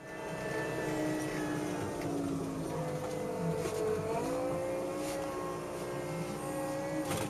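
A resident snowplow's engine hums steadily and fairly loud throughout a ride, its pitch rising and falling slightly with shifting tonal lines and no talking.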